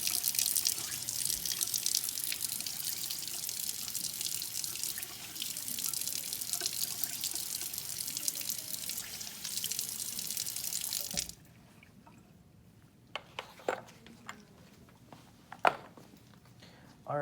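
Running water rinses out laboratory glassware in a sink, a steady hiss of tap flow lasting about eleven seconds before cutting off, followed by a few faint drips and clinks.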